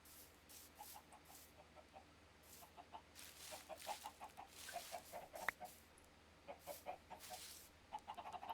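Chickens in the Minecraft video game clucking in short repeated bursts, moderately close over a faint steady background hum, with no voices.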